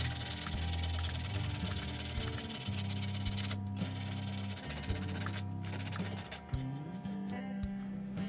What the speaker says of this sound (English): we're just going to go ahead and sand this down before we putty anything